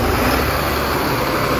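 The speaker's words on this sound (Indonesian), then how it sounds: "Nah ini knalpotnya nyala dua-duanya nih" A Mercedes engine idles with both exhaust pipes running, making a loud, dense, steady rumble that fills the short stretch without pause or speech.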